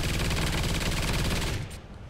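Automated turrets firing in Call of Duty Ghosts Extinction mode, a dense rapid stream of loud gunfire bursts that cuts off near the end, leaving quieter game ambience.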